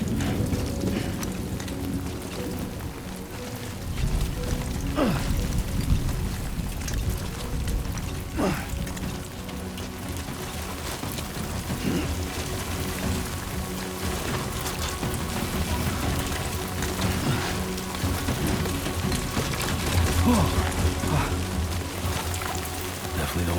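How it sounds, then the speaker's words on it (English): Steady rain pours in the video game Death Stranding 2, a dense continuous hiss with scattered drops and faint low rumbles throughout. "Great. Rain. Gotta move."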